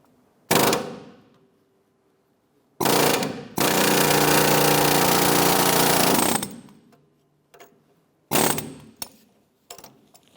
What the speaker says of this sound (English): I'm just going to hit the head of the bolt and drive that bolt out